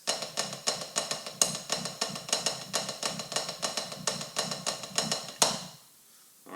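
A drum sticking exercise in 9/4 groupings on Zildjian cymbals or practice surface: an even run of crisp, quick strokes with regular accents, fairly faint, then it stops and a short silence follows.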